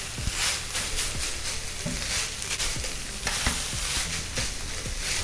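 Quinoa stirred in a pan, steady sizzling frying hiss with repeated scraping strokes of the spoon, close and continuous.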